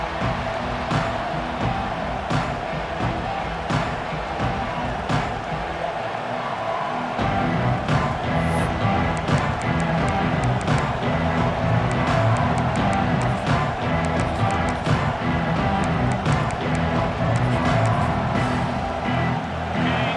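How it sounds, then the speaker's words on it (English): Huge stadium crowd roaring steadily in the college football video game EA Sports College Football 26, a loud continuous wall of cheering and crowd noise with no clear breaks. "This crowd bringing an ear-splitting welcome to their visitors."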